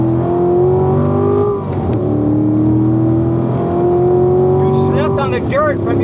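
A Corvette engine on a racetrack: a loud, sustained roar held at high revs with rising and falling pitch, under a driving instructor's voice coaching over it.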